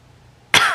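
A woman clears her throat once, abruptly and close up, in a single harsh burst with no talking.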